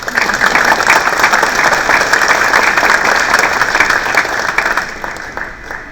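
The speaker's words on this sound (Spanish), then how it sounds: "para quienes pido un fuerte aplauso" A large audience applauds steadily to welcome three panelists at an environmental sustainability and climate change forum, a dense, sustained wash of clapping that holds loud throughout and only begins to thin slightly near the end.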